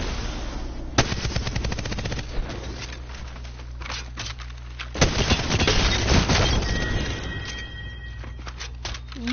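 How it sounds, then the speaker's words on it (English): Rapid bursts of automatic gunfire and single shots in the battle-royale shooter Apex Legends, loud and close, firing in clustered volleys with short pauses, with no talk over them. "Open fire on the enemy."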